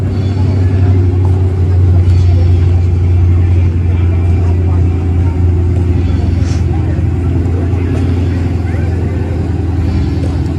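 Muscle cars at a car show give off a steady, loud low engine rumble with a continuous idling drone and mild revving, holding at one level throughout alongside faint background chatter.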